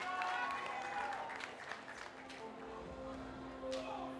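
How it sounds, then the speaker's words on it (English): Applause from an awards ceremony audience, a fairly faint, distant patter of clapping over a steady tonal hum, fading slightly midway and swelling again near the end. "a round of applause one more time"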